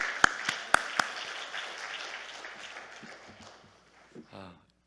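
Congregation applause for a preacher at a Korean church prayer gathering, opening with a few sharp loud claps, then a scattered round that fades, with a voice speaking at the end.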